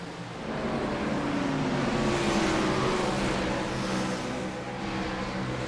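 Race cars roar around the track at Homestead Miami Speedway, a continuous loud engine drone with a rising and falling pitch as the pack passes, heard from a distance with crowd and ambient noise beneath.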